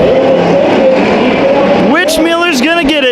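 Race cars on the last lap at Bakersfield Speedway roar past loudly, engine pitch climbing and dipping as they rev and pass close, with an excited commentator talking over the noise.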